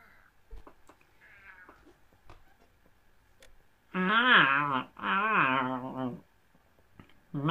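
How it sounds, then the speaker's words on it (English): Cat meows from the video game Night In The Woods: two long, high, wavering cries in quick succession after quiet game ambience with faint clicks. "That is more chipmunk than a cat voice."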